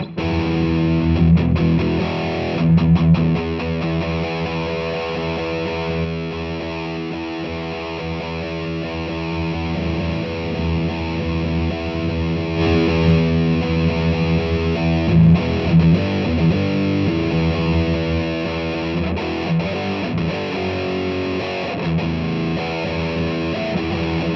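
Heavily distorted electric guitar through a Line 6 Flextone II amp on its modern high-gain 5150-style model, playing sustained chords and chugging riffs loud and steady for the whole stretch, with no talk.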